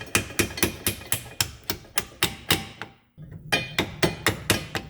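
A hammer taps repeatedly on the rear strut assembly of a 2012 Subaru Impreza, steady close metallic knocks at about three per second, pausing briefly before the strikes resume.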